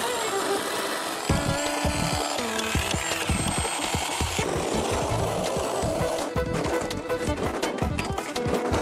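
A saw cuts through metal and nails at a mannequin factory, giving a loud, continuous rough grinding with rapid rhythmic knocking and scraping throughout, with no talking.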